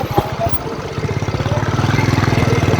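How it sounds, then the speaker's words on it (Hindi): A motorcycle engine runs steadily and close by, its rhythmic low rumble pulsing evenly as the bike is ridden, with a brief burst of talk near the start. "तो भाई बाइक चला रहे हैं।"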